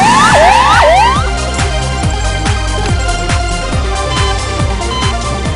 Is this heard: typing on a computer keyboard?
no